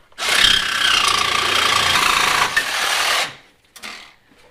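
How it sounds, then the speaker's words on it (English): A Milwaukee Sawzall reciprocating saw with a new blade cuts through a car's exhaust tailpipe, a loud continuous buzzing rasp for about three seconds, then stops, followed by a couple of short clanks. "that new blade cuts through there like butter"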